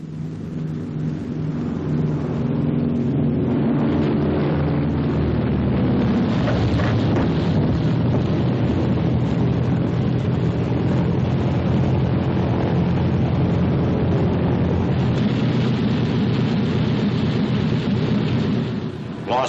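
A WWII fighter plane trailing smoke as it lands on an aircraft carrier, heard as a loud, continuous roar of engine and wind with rumbling, thunder-like low noise throughout and no voices.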